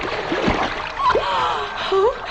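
A ritual dip in cold Ganges water, with a few short splashes and sloshes close by and people talking over them.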